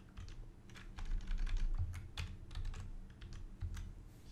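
Quick bursts of typing on a computer keyboard, close and moderately loud, with rapid irregular key clicks.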